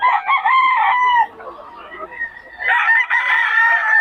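A pumpkin sweater gamefowl stag, eight months old, crows twice at Bocaue. Each loud, close crow is a drawn-out call, separated by a short pause filled with faint background noise.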